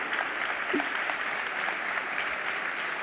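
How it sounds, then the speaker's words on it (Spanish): An audience claps steadily at a video game culture talk, a moderately quiet, even wash of applause lasting throughout without a break. "una segunda ronda de aplausos para la organización del Guadalindi"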